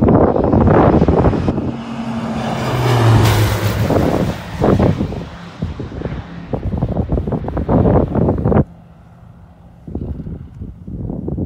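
A Kitfox light aircraft with a 915 engine and constant speed prop on approach to land, its engine droning steadily through heavy wind buffeting on the microphone, fairly loud and close, with a brief drop in noise near the end.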